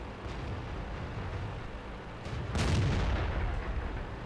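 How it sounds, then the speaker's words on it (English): Tank cannon firing in a tank video game, one deep booming shot with a short rumbling tail over a constant engine drone while the tank drives at full speed. "Another shot, very long distance shot, driving full speed."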